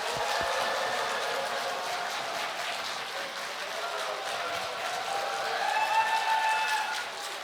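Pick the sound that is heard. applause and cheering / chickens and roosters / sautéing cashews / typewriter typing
applause and cheering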